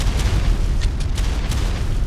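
A Vectispinus in artillery mode in ARK: Ascended sets off a continuous heavy, rumbling explosion, dense low boom filling the whole moment with a few crackling bursts on top.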